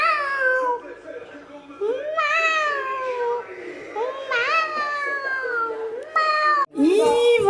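A young child imitates a cat, producing a string of high, sliding meows and caterwaul-like cries close to the microphone, repeated over several seconds with brief pauses.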